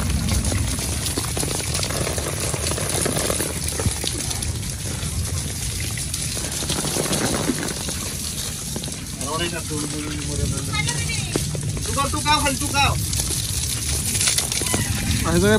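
Heavy rain pouring down during a storm at a rural home, a dense continuous wash of water with splashing, while a voice talks over it intermittently.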